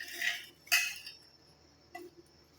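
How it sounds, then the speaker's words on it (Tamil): A few light rustles and soft clinks as dry curry leaves drop into a mixer jar, with quiet gaps between. "இப்போ இந்த 2 கைப்பிடி கருவேப்பிலையை நம்ம அப்படியே மிக்ஸி ஜாரில் போட்டுக்கலாம்."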